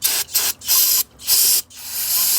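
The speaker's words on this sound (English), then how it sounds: "spray the outside off with a little bit of carb cleaner" Carb cleaner sprayed onto the outside of a Coleman 10 hp generator carburetor: four loud, close, hissing aerosol bursts of about half a second each, separated by short gaps, with no talking.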